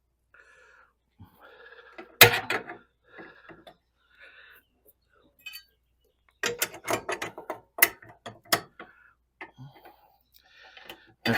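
Ratchet work under a VW Beetle during a swing-axle transmission install, fitting the snubber: sharp bursts of clicking ratchet strokes and metallic clatter, close and intermittent, with quiet talk between.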